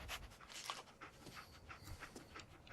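Dogmeat, the dog in the video game Fallout 4, pants softly in a steady breathy rhythm, faint and close amid low game ambience.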